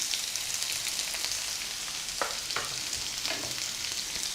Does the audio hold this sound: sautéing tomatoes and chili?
yes